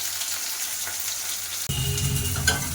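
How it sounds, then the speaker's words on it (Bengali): Steady hissing sizzle of greens and chicken frying in two pans on a gas stove, with a louder burst of crackling partway through as something hits the hot oil; close and continuous. "একদিকে হচ্ছে শাক ভাজা আর একদিকে হচ্ছে মুরগির মাংস।"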